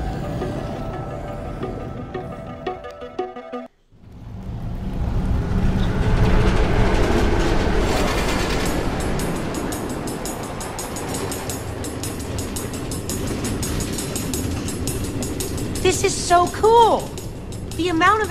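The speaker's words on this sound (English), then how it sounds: "Automated train tracks running all through the Nether, connecting all the different order members?" A train running on automated tracks through the Nether in the game Minecraft: Story Mode, a loud sustained rolling rumble with rattling and squealing, beginning after a brief silence.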